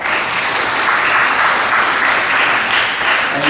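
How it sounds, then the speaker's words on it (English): Steady, loud applause from a school assembly audience at a middle school awards ceremony, dense clapping sustained evenly throughout with no voices over it. "Give them a round of applause"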